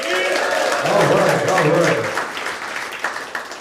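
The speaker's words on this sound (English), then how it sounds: "give a big round of applause if you're ready to have a good time" Applause from a comedy club crowd, clapping and cheering under a loud nearby voice that talks over it, tapering off after a couple of seconds.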